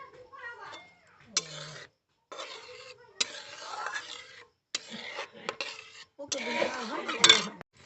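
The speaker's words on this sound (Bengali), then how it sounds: "নাড়াচাড়া করে সুজিটাকে সেদ্ধ করে নেব।" Semolina being stirred in a pot as it cooks with crushed cardamom for puli pitha, a spoon scraping and clinking against the metal in short bursts separated by brief pauses, close up with no talk.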